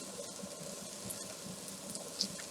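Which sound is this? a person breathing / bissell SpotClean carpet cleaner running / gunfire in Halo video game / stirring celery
stirring celery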